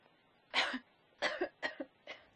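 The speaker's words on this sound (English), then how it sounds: "When she starts coughing" A woman coughs several times in short fits in the video game Silent Hill 2 Remake, close and fairly loud, with quiet pauses between bursts.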